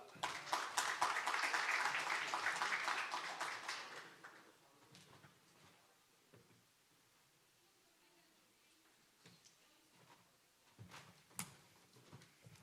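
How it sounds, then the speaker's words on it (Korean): Clapping from an audience welcoming a professor at a university orientation, a brief burst of many hands at moderate level that fades after a few seconds into quiet room noise with scattered small sounds. "큰 박수로 부탁드리겠습니다"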